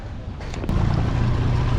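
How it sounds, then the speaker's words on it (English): A boat engine in Turkey starts up after a moment of wind noise, then runs as a loud, steady, close rumble. "So there it is, Frank's engine"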